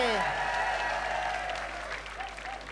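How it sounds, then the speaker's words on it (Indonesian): Audience applause at an Indonesian comedy variety show, a fairly faint wash of clapping under background music that thins out toward the end. "Ya oke, tepuk tangan."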